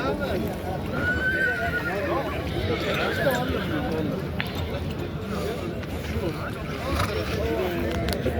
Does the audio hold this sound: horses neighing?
yes